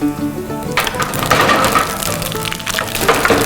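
Loud sizzling and sharp crackling as fennel and cumin seeds hit hot oil for a tempering, a sudden burst of popping that continues steadily.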